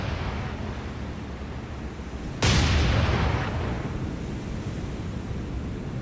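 Naval gunfire in a sea-battle game: a single sudden heavy boom breaks over a constant ocean-like rumble, then rolls off into a long fading wash.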